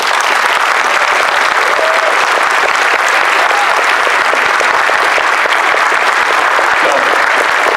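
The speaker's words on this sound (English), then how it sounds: "please, a round of applause for these guys, if you would" Opening-ceremony crowd at a large convention, MFF 2017, breaking into loud, sustained applause, thick continuous clapping filling the room at constant intensity throughout.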